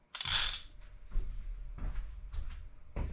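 A socket ratchet works on a large rear wheel nut of a 1984 Bertone X1/9, giving a few separate clicking, grinding turns spaced about a second apart, close and fairly quiet, with no talk.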